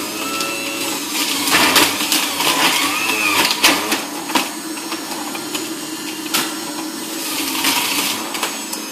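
Celery is fed through an electric juicer, either an Omega BMJ330 or a Breville JE98XL, and grinds loudly up close with a rough motor whine and irregular crunching bursts as the stalks are pushed in.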